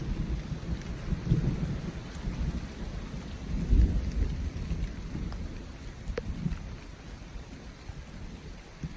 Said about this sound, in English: Thundered.